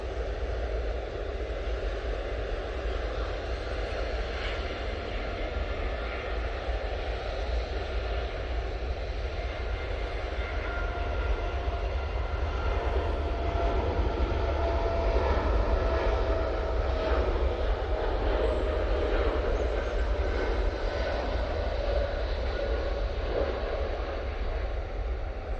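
A TUI Boeing 787-8 Dreamliner heads down the runway at Manchester Airport on its takeoff roll, a steady, moderately loud jet rumble that slowly builds with no voices heard.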